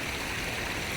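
A koi pond waterfall pours steadily, fed back from a filtration system, giving a dense, continuous rushing wash of water with no pauses or voices.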